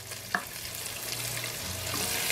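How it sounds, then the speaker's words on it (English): Diced red onion sizzles and fries steadily in rendered bacon fat, with a brief stir clatter near the start and a continuous close crackle that builds slightly toward the end. "Going to sweat down that onion"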